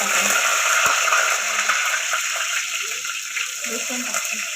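Mustard seeds and curry leaves sizzling in hot oil, a loud continuous hiss close by with faint crackles underneath while someone talks over it.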